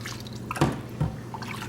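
Water rinses through dreadlocks during a cleansing wash, giving a steady wet trickle with a couple of distinct drips standing out.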